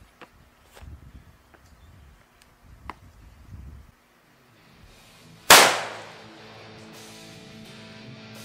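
A single sharp, loud rifle shot from a CVA Cascade bolt action with a 22 inch barrel firing 55 grain rounds outdoors, with a long echoing tail, preceded by faint shuffling and footsteps.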